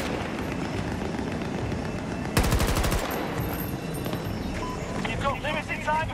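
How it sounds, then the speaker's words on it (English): Gunfire in the video game Battlefield 2042, with a sharp, loud burst of rapid automatic shots standing out over a steady rumble of game sound. "They're shooting at me."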